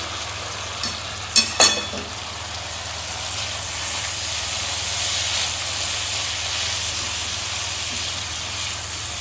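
Kankoda (spiny gourd) curry simmering on a low flame, giving a steady soft hiss and sizzle throughout, with a few brief scraping clinks from stirring near the start.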